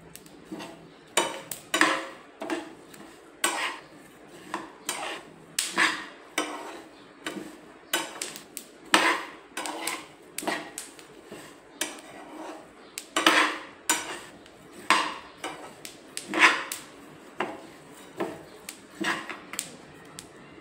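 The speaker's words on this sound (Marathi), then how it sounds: "तर आता पहिले आपण बिया भाजून घेणार आहोत" Seeds dry-roast in a pan over low heat. A spatula stirs them in a steady rhythm, with repeated scrapes, clinks and rattles against the metal. The sounds are close, with quiet gaps between strokes and no speech.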